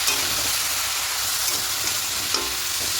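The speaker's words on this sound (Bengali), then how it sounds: "আদা আর কাঁচা লঙ্কা পেস্ট এটা মিক্সিতে করেছিলাম সব কিছু খুব ভালো করে কষিয়ে দেবে" A thick, loud sizzle of ginger and green chilli paste sautéing in oil for vegetarian khichuri, a dense, unbroken hiss with faint stirring scrapes, heard up close with no voices.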